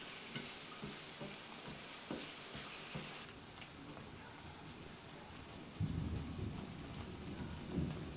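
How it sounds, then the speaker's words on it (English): Thunder rumbles in the background over steady rain, with a louder, deeper roll swelling near the end. "you probably hear that thunder in the background right now"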